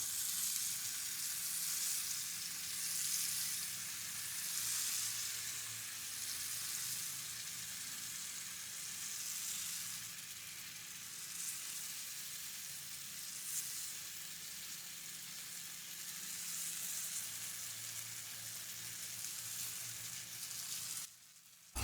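Spiced potatoes fry on a hot tawa griddle coated with a spoonful or two of oil, a continuous close, even sizzle that holds steady for the whole stretch with no talk.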